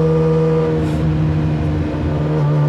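A Campagna T-Rex three-wheeler powered by a Kawasaki ZX14R engine drives along with a loud, steady engine drone heard close up from on board, holding fairly constant revs over wind noise.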